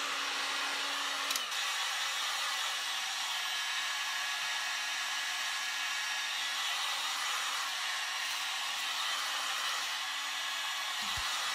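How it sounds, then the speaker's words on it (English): A heat gun blowing hot air to lift stickers off thrift-store octagon end tables, a steady close whirring hiss with a constant tone that shuts off at the end. "I started by removing all the stickers using my heat gun"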